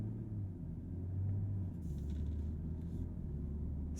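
A 2022 BMW M240i xDrive coupe cruising in comfort drive mode, heard from inside as a low, steady engine and road rumble, quiet and smooth with no talking.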